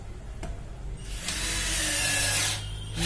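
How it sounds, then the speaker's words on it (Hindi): A cordless 12V drill turns a Taparia star bit, driving in with a steady whirring burst of about a second and a half that rises over a faint lead-in click, then eases off before a brief restart. "अब इसे लगा के मैं अब ये इसको लगा के ड्रिल करके देखेंगे"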